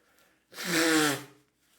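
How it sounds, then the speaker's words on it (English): A single sharp, close sneeze bursts out for about half a second in an otherwise quiet moment, with a faint breath before it. "sorry for my sneezes"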